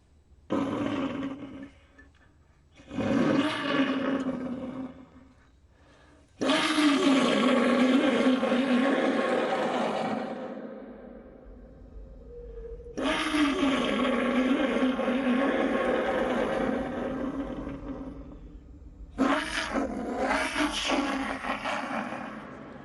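A pututu conch shell trumpet from Chavín de Huántar is blown to imitate a feline roar: several rough, growling blasts of a few seconds each, separated by short pauses, heard alone and fairly close.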